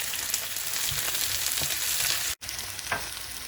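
Red onions fry in a mix of vegetable and olive oil with a close, continuous sizzle and crackle, broken by occasional soft stirring taps and a brief gap near the end.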